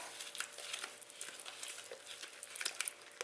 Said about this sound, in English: Now we're going to mix up our sauce.